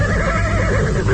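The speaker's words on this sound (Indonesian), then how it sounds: "tiba-tiba terdengar ringkik kudanya" A horse neighs loudly and close for a radio drama sound effect, one sustained whinny that wavers in pitch and fills the whole short clip without any voices.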